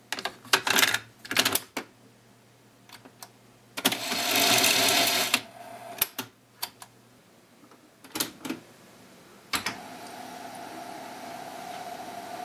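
Someone typing a short BASIC program on the keyboard of an Amstrad CPC 464 home computer: bursts of crisp clicking keystrokes with pauses between them, close, over a steady low machine hum.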